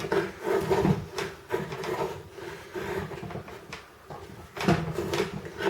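A Jaktkit Knv2 knife with a convex-ground edge slices through material, giving repeated close woody rasping and rubbing strokes with a few louder scraping bursts, no voices.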